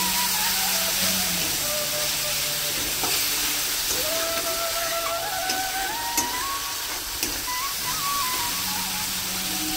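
Ground spices frying in hot oil with a splash of water added, giving a steady continuous sizzle and hiss throughout, with faint background sounds and scrapes.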